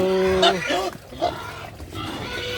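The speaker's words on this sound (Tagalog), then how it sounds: "Ito, nagpapakain ngayon ng babuyan natin." Pigs on a farm grunt and squeal at feeding time in a pen, while someone talks over them at close range.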